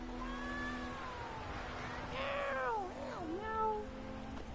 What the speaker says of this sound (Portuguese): Ó o gato.